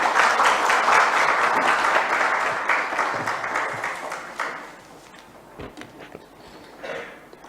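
Audience applause welcoming a young poet at an Albanian book launch for the poetry collection "Pesha e Heshtjes", loud sustained clapping from a seated crowd that gradually thins out and fades into scattered claps.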